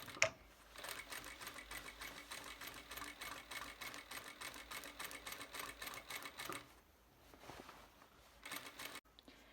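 A sewing machine runs a long-length stay stitch around a summer dress neckline, a steady close rattling whir for several seconds that slows, stops briefly, and ends with a few handling clicks, no voices.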